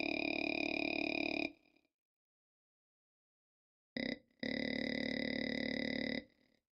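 A Delay Lama synthesizer plugin's singing-voice patch sustains a loud, buzzy, burp-like vocal tone, broken by a short silence, a quick blip and a second long held note.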